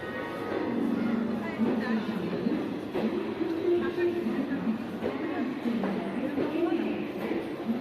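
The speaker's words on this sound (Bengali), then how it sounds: "তো এই হলো আমাদের ট্রেন।" The Howrah-Haridwar Doon Express, train 13009, gives off a steady low rumble and hum, with a faint murmur of crowd and station noise throughout.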